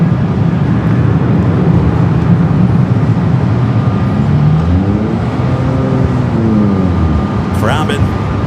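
Airbus A380 on short final at Los Angeles International Airport, a loud, steady jet roar filling the whole stretch with a slowly sweeping engine whine as it passes, while a person talks over it.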